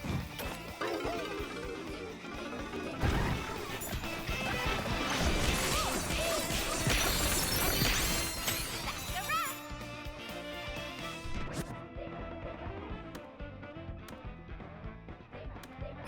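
Smashing foragers in the Donkey Kong Island game: a dense, loud run of crashing, whacking impacts over busy game music, thinning out after the first ten seconds into sparser hits.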